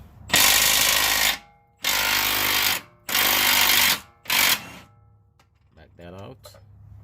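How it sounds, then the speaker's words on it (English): A ratchet wrench loosening a bolt near the oil filter on a 2012 Nissan Maxima during a lower control arm repair, heard as four loud, close bursts of rapid clicking, then quieter handling sounds and a brief voice. "Got my wrench on there."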